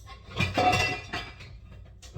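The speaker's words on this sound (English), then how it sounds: "I sound like kids playing with pots and pans, don't I?" A cooking pan is pulled out in a home kitchen while making icing for a Coca-Cola cake, with pots and pans clanking and clinking in a short, close metallic clatter.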